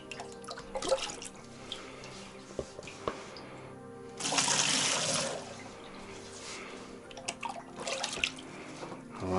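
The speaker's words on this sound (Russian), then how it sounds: "Все, заливаем водой, ребят. Заливаем полностью." Water pours into an autoclave being filled for canning stew in retort pouches, a quiet trickle and dripping punctuated by a louder gushing pour midway, with faint voices around.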